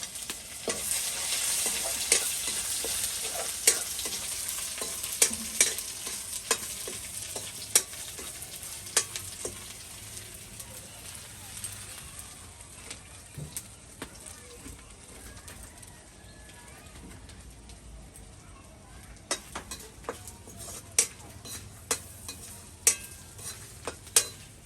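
Spices and ginger sizzle and crackle steadily in hot oil for a Bengali mango dal tempering, with sharp pops and stirring clicks throughout and a pigeon cooing faintly in the background.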